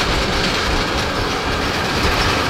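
Steady rumbling of a freight train rolling on rails, with a continuous broadband roar and faint rhythmic clatter from the wheels, close and loud throughout.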